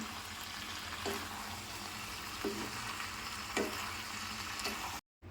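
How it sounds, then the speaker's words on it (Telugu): Macaroni pasta stirred in a hot pan: a steady close sizzle with a few soft spatula scrapes about once a second, then a brief drop to silence near the end. "పాస్తా ముద్దగా అయిపోకుండా జాగ్రత్తగా కలుపుకోవాలి."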